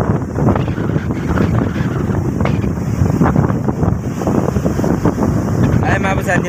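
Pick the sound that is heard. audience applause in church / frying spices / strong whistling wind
strong whistling wind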